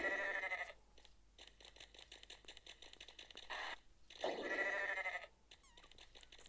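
Goat Simulator goat bleats come in a few loud, wavering bursts separated by short gaps, with no talking.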